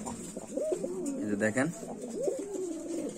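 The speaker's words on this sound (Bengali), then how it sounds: "আমরা আরেক জোড়া কবুতর দেখাচ্ছি আপনাদের" Lakkha pigeons coo in low, rolling, throaty calls close by, with a voice talking over them throughout.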